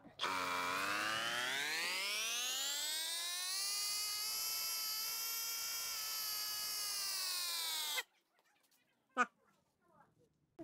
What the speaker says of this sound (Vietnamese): nó khoan một mũi khoan này trong vòng 28 29 giây là khoan được một mũi